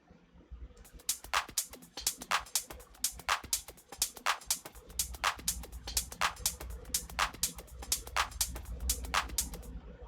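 Top percussion loops for a minimal house groove made in Ableton 12: crisp hi-hat and shaker hits repeat in a steady rhythm, with a soft low thump underneath that grows fuller partway through. The loop is fairly quiet and plays without talk.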